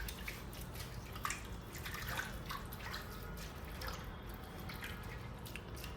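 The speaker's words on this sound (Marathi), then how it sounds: "भाजी चांगली जरा हाताने अशी हलक्या हाताने ही चोळायची आहे" Sea fenugreek seaweed greens rubbed gently by hand in a bowl of water, producing soft squishing, sloshing and dripping sounds close by and fairly quiet.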